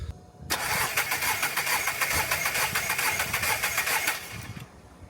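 A car engine cranks over on the starter during a compression check on cylinder one, giving a loud, rapid, even chugging that runs for about four seconds, then stops abruptly.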